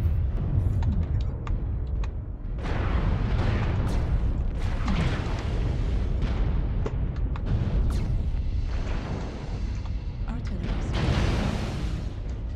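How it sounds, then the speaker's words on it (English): Artillery strike explosions in a tank video game on the Crimson Straight map roll in as a dense run of heavy, overlapping booms and rumbling blasts, loud and continuous for the whole stretch. "Artillery strike online."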